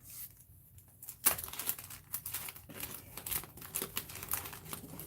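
Glassine envelope in a junk journal handled up close, making crisp crinkling and rustling paper sounds with a sharp crackle near the start and no talk.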